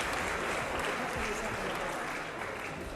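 Audience clapping and crowd noise fill a parliamentary chamber during a debate on the Marriage Amendment bill, a steady broadband wash of applause with murmuring voices underneath throughout.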